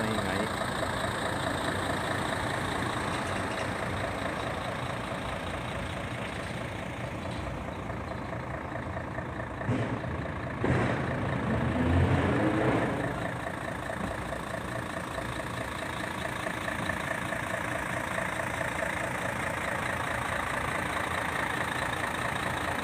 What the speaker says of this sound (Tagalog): Pasensya na po, medyo naiingay yung audio natin dahil umandar yung truck namin.